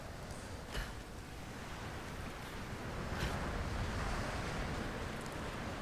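Wind blows in the Tomb Raider video game, a faint, steady rushing hiss that swells slightly midway, with a couple of brief soft clicks and no talking.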